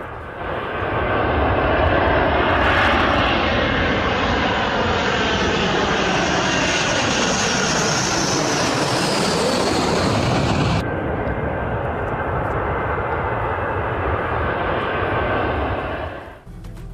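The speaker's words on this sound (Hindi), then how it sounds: "ईरान पर कयामत ढाने के लिए अमेरिका के B-1 बॉम्बर भी उड़ चुके हैं।" A US B-1 bomber jet flies overhead with a loud, steady roar that sweeps subtly in pitch as it passes, holding strong for the full duration before easing at the very end, with no voices.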